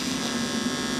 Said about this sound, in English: This may be my first time to actually TIG aluminum